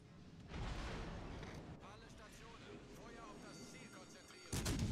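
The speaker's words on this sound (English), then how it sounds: "Leon shooting AP." Naval guns aboard warships firing armor-piercing shells in World of Warships Legends, a dense rumbling barrage of booms under game noise, with a fresh loud blast at the end.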